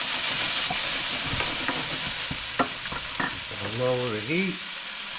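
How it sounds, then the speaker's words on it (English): Vegetables fry in a pan on the stove with a steady, close sizzle while being stirred. A brief scraping clatter comes near the end, and a voice speaks briefly. "Alright, I'm going to let everything fry up."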